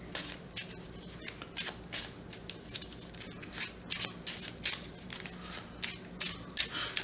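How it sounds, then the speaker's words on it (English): Hands shuffling a deck of game cards, a steady series of soft close riffles and flicks repeating for several seconds, quiet and with no voices. "Now, we'll shuffle our deck up."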